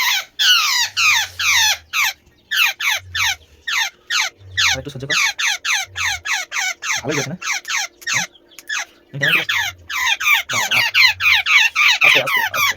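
A bird tangled in a field net squawks and cries in rapid repeated bursts, loud and close, while people speak briefly at intervals.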